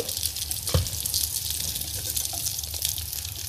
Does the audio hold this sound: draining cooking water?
yes